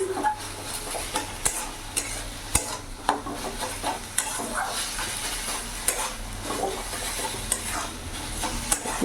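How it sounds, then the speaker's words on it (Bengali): Bathua greens stir-fried in a pan, with steady frying sizzle under repeated sharp scrapes and clinks of a spatula against the metal, close and fairly loud throughout. "ভাজা ভাজা করে নেবো এখন।"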